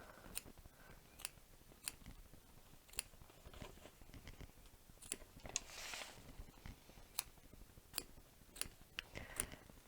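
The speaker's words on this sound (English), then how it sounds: "these little curved scissors kind of get you a nice angle so you can get down in there and nice and close" Small curved scissors trimming close along fabric, giving sharp snips at an irregular rhythm, some close together and some spaced apart, near and crisp over a quiet background with no talking.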